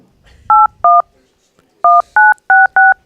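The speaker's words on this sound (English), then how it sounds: "if you can pick up those tones, then you just got his phone number" Six clear telephone keypad tones sound during a call. Two beeps come first, then a pause, then four more in quick succession. Each is a short, loud, pure dual-tone beep with only faint background sound between them.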